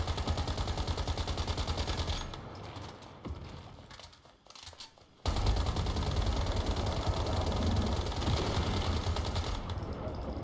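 Rapid automatic gunfire from the video game Once Human rattles loud and dense, pauses for a few seconds of quieter shots, then resumes in sustained bursts.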